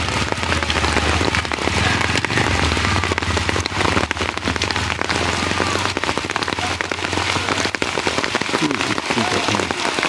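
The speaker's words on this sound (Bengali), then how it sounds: "আল্লাহর রহমতের বৃষ্টি দেখেন" Heavy rain pours steadily onto surfaces outdoors, a dense, loud and continuous hiss with crackling drops throughout and no break.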